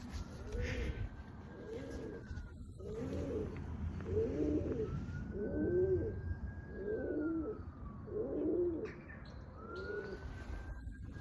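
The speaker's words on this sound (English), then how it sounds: "pigeon life in the neighbours next door." Pigeons nesting under rooftop solar panels coo in a steady repeating rhythm, about eight muffled calls in a row, with a faint high tone drifting in the background.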